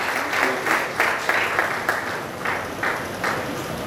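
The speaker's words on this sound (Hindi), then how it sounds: "हम सबक से कब पर खड़े होकर तालियां बजाकर खुदावंत के खादिम को खुश आमदीद कहेंगे" A church congregation claps on their feet to welcome the pastor, a moderate wash of applause with rhythmic pulses of clapping rising and falling over a few seconds, no talk over it.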